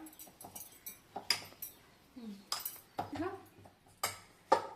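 Flour batter is stirred with milk and ghee, a utensil clinking and scraping against a bowl in quick, faint, irregular taps, with a voice talking softly over it.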